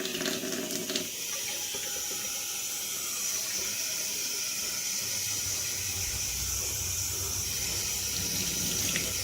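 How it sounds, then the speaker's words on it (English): Water runs steadily from a tap with a constant hissing rush, close and unbroken, as a bottle fills. "Now all I'm going to do is fill it with water."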